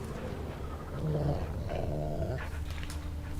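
Dogs in The Witcher 3 growl low and rumbling, rising in two rough surges, fairly close and alone without speech.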